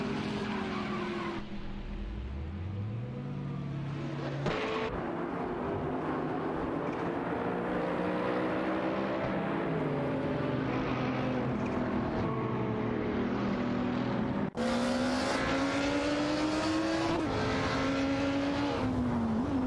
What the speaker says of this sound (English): Lobardo and Neotexum engage in a fierce battle for 5, with their Aston Martin Vantage GT3s challenging Mama Hasta's Lamborghini Huracan GT3.